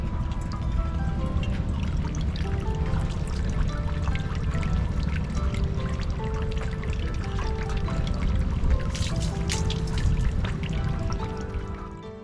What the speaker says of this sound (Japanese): こちらに手水舎がありましたので、ここで清めてまいります。